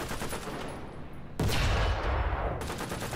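Tank guns fire in War Thunder during a battle between a T-26E and American tank destroyers, heavy booming blasts over dense continuous battle noise, with a big surge of rumbling impact midway.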